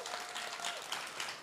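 Applause from an audience at a European Parliament Ambassador School graduation ceremony, steady dense clapping throughout a short stretch, moderately distant with a faint tonal voice trace early on.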